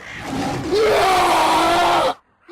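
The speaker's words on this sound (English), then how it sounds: "If you kill a group of humans at the same time, the sound clip of them screaming doubles up and you get a sonic death scream." Doubled death screams of several humans killed at once in the Life of Black Tiger video game on PS4 form one loud, layered, rising cry lasting about a second and a half, then cutting off abruptly.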